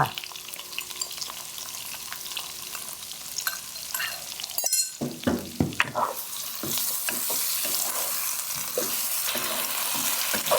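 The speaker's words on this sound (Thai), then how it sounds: "ผัดแบบนี้ต้องผัดจนสับปะรดดูนิ่มๆนะแม่เนาะ" Chicken wings stir-fried with pineapple and sauce in a hot pan: loud steady sizzling with spatula scrapes and stirring bursts. A short gap comes around midway, then the frying hiss grows stronger.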